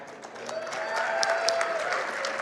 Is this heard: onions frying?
no